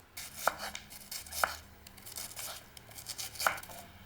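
A knife thinly slicing vegetables such as cherry tomatoes, purple onion and red pepper, faint separate cuts landing at irregular intervals with no one talking.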